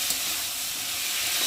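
Ginger, cumin and onion paste with tomato frying in oil: a brief, even hiss of sizzling masala at moderate loudness.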